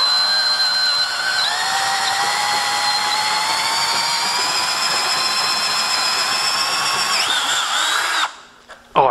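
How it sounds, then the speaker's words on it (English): A power drill whines steadily at low speed while a 23/64 bit bores through soft aluminum tubing, a continuous tonal drone that stops abruptly near the end. "Oh, I love drilling soft aluminum."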